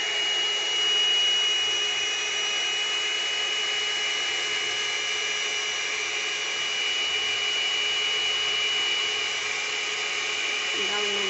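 A small handheld blower pushes air across a little resin pour test tile in pink and turquoise, making a constant close whirring hiss with a thin steady whine that runs unbroken the whole time.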